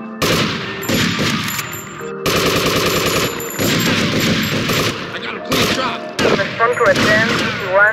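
Rapid bursts of gunfire from GTA Vice City ring out in loud, dense volleys, with short gaps between clusters and a police radio voice breaking through.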